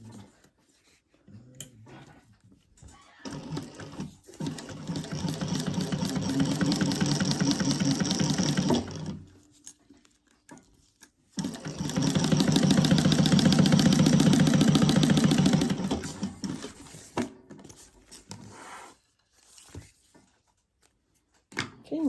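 Sewing machine basting a seam on a crossbody bag, running in two sustained bursts of steady rapid stitching separated by quiet pauses and small handling noises.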